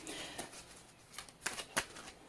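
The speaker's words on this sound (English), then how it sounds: "fast forward if you don't want to watch the shuffle" A deck of tarot cards being shuffled by hand: several quick, crisp riffling bursts with short pauses between them, close and fairly quiet, with no talking.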